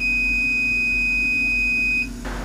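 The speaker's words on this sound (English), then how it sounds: "All right, Tony, that beeping sound means the job is over" A steady, high-pitched electronic beep holds for about two seconds, then cuts off, leaving a low hum behind.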